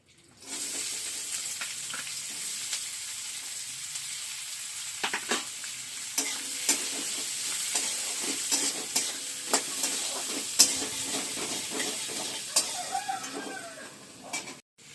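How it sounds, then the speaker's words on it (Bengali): Chopped onions fry in hot oil in a pan, giving a continuous close sizzle punctuated by repeated scraping clicks of a spoon stirring against the metal. "এবার কুচনো পেঁয়াজগুলো গরম তেলে দিয়ে দেব"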